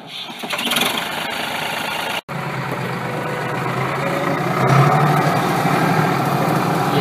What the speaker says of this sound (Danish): det er jo grov som den her traktor, den larmer